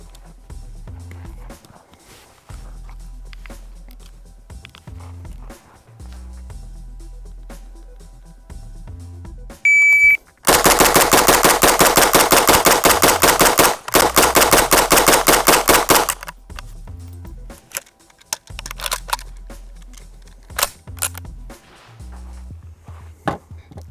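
Rapid gunfire from a civilian MP5-type pistol-caliber carbine, a fast burst of loud sharp shots lasting about six seconds, with quieter movement and handling sounds before and after, timed with a timer.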